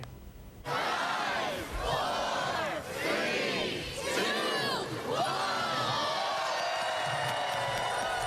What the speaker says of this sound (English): the crowd counted down as the switch was flipped to turn on the holiday display